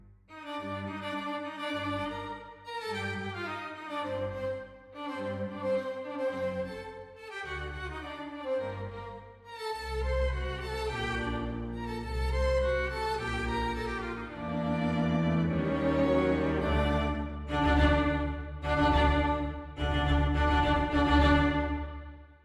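Sample-modeled solo strings play a flowing phrase from a Mozart symphony, the lines overlapping and swelling gradually louder toward the end.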